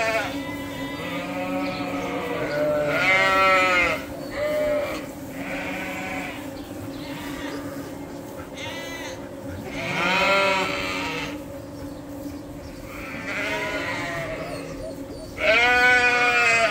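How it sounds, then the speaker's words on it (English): Sheep bleat repeatedly as a flock is let out on a farm in spring, loud overlapping calls from several animals close by, with a steady low hum underneath. "we're gonna let these sheep out again"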